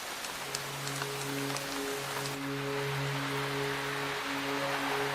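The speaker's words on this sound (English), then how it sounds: "It rains here nearly every day." Rain falling in western Tasmania, a steady dense patter on surfaces, soft and continuous with low tonal hums beneath.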